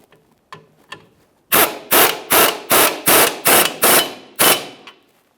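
A wrench snugs up a bolt on the lower control arm of a 2005-2010 Chrysler 300 rear suspension, eight sharp, evenly spaced metallic clicks and knocks, loud and close, after a few faint taps.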